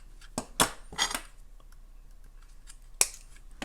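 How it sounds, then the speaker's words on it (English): Nylon-coated pliers working a length of beading wire, giving a few sharp metallic clicks and scrapes in quick bursts, then a pause and one last crisp snap, close and fairly quiet. "if you have nylon coated pliers, it's a good idea to straighten it out before you snip it off your spool"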